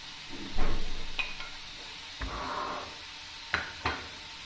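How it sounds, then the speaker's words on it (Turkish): Kapya peppers are fried in oil in a pan: a low sizzle punctuated by several sharp utensil knocks and scrapes against the pan, up close. "Şimdi biberimi ilk olaraktan biberimi ekliyorum"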